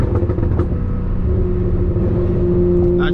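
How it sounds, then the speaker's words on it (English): A BMW 340i in Sport Plus mode accelerating, its engine a loud, steady low drone with a rising tone, heard from inside the car with windows down. "right now, I'm in Sport Plus, which I've been kind of battling with more or less. So I'm just like trying to do like fun little pulls and kind of hear the car"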